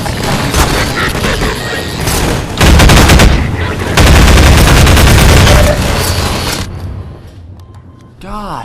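Sustained bursts of pulse rifle fire in Half-Life 2, loud rapid automatic volleys with booming impacts, pausing briefly between strings, then fading to quieter in-game effects and a voice at the end.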